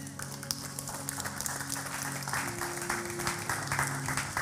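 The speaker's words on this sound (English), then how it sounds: "you're the first service to clap for that" A church congregation applauds at an Easter service, a full steady clapping of many hands with sustained musical tones from the worship band underneath.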